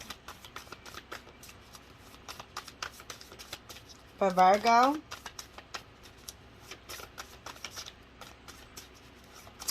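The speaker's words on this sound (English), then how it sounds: "We're going to keep on shuffling until we get something that wants to come out." Soft, rapid riffling of tarot cards being shuffled throughout, close and continuous, with a brief spoken phrase in the middle.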